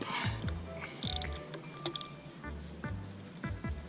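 Ratchet with a 16 mm spark plug socket working on a Citroën Xsara 16-valve engine, a series of quick clicking ratchet strokes repeating at a steady rhythm, close and fairly quiet.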